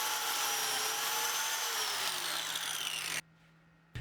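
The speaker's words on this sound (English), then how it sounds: "Slots are cut 2 5/8 inch from each end and 5 7/8 is the center slot cut." A biscuit joiner spins up with a loud, high whine while cutting slots in wood for a Mackintosh style table, holding steady for about three seconds before cutting off abruptly into near silence.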